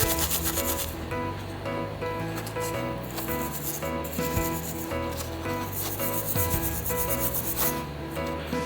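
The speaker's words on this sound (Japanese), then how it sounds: "ワイヤーブラシをかけましたらば、さらにここの角を念入りにお願いします。" A wire brush scrubs the corner of a V8 intake manifold. The scrubbing is loud, close and continuous, with steady rasping strokes that run the whole time and no speech over them.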